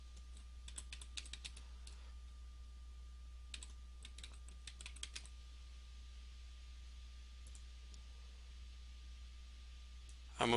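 Light, quiet keystrokes on a computer keyboard come in short bursts of typing separated by pauses, set against a faint steady hum, with a brief louder noise at the very end.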